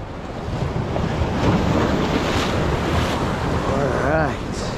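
Gusty wind buffets the microphone over steady crashing surf on a beach before a storm, a continuous loud roar with rising and falling gusts throughout.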